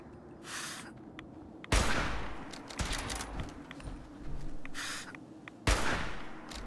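Explosive pistol gunfire in the video game Fallout 4, several loud sharp blasts with crackling aftermath, spaced irregularly amid lighter game noises.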